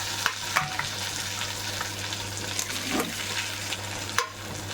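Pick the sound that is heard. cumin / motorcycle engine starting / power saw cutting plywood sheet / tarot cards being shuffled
cumin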